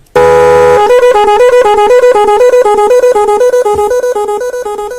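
A motorcycle horn gives one long steady blast, then switches to a rapid repeating pattern of short alternating-pitch toots, loud and close.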